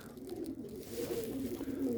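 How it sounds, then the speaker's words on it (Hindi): A male pigeon coos close by in a low, continuous murmuring warble, steady and moderately quiet, with no voices. "नर कबूतर है।"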